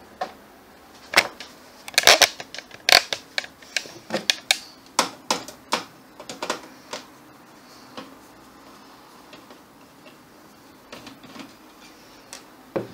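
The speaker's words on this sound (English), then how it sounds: "So what we're going to do is take off the screws here" Screws being removed from an Alienware X51 computer case: irregular sharp clicks and ticks of a screwdriver and small metal parts, close and fairly quiet, with no voices.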